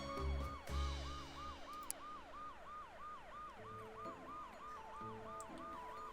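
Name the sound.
police car siren in zombie RTS video game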